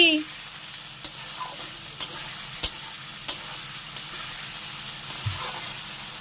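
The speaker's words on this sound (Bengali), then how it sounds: "একটু ভাজা ভাজা হোক দইটাকে" Yogurt frying with meat in a pan for a Sunday lunch, a steady close sizzle with scattered sharp clicks and scrapes of stirring, no voices.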